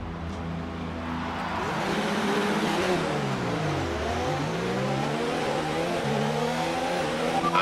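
Simulated Formula 1 car engine in F1 2019 on the formation lap, revving up and down with pitch sweeping high, dipping and climbing again, loud and close, with no talk over it.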